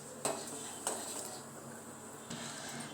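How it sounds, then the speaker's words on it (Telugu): Sweet pongal with cardamom pods stirred in a pot, a spoon scraping and knocking against the metal with a few sharp clinks over a low cooking hiss, close and fairly quiet. "ఇప్పుడు కొద్దిగా కలుపుకుందాం."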